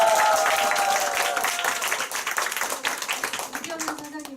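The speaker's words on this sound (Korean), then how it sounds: "큰 성장하시라고 박수 한번" Audience clapping at a Nu Skin group meeting awards ceremony, a dense wash of applause that thins toward the end while a voice speaks over it.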